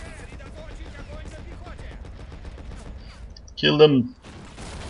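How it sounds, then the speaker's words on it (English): Gunfire in the war strategy game Men of War: Assault Squad: a rapid burst of shots as a single loud volley near the end, following a quieter stretch of background battle noise with a shouted voice. "The gun is firing at me."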